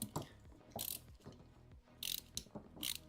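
Screws are tightened with a ratcheting tool while a VZ Bot VZ-235 3D printer's Z axis is assembled, producing several quick bursts of close, rapid ratchet clicks separated by short pauses.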